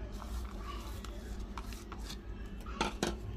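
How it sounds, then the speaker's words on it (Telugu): Masala vada ingredients with turmeric, asafoetida, onions and curry leaves being mixed by hand in a bowl, soft clinks and scrapes against the bowl with a few sharper taps near the end, under a speaking voice. "ఇప్పుడు అన్నీ మంచిగా కలుపుకోవాలండి."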